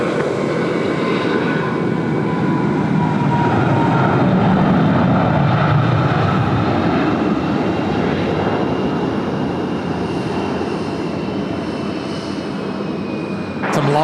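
An Emirates airliner begins its takeoff roll at Sydney Airport, its jet engines giving a loud, continuous roar that holds steady throughout.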